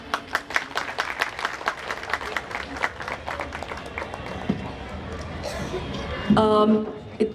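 Audience at a Vardhapan Diwas celebration bursts into sustained, dense clapping after a sung devotional performance, steady throughout with a brief voice or tonal sound near the end.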